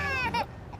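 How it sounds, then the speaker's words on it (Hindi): A baby's high, wavering cry heard from inside a car when its engine starts, two short wails that fade out within a second. "इंजन स्टार्ट करो तो बच्चे के रोने की आवाज।"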